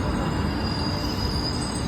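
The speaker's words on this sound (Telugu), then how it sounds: "ట్రైన్ పోతుంది." A nearby train rumbles past with a dense, continuous roar and a faint high-pitched wheel whine above it.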